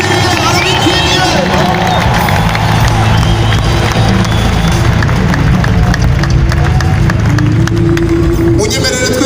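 A large crowd at an Amahoro Stadium worship concert in heavy rain roars and cheers continuously with dense babble and ululation, a loud, steady wall of voices with no break.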